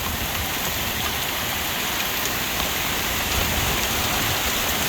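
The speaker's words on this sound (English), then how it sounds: "Oh man, this is all hail and rain." Heavy rain, mixed with hail per the description, pours down in Ogden, Utah, a dense, steady wash of hiss and patter with no pauses, loud and close throughout the storm.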